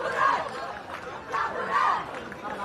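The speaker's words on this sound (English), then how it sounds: "Crowds are roaring here." A rugby final crowd of Jayawardenapura and Colombo university fans roars and chants, swelling in two loud waves of massed voices from the stands.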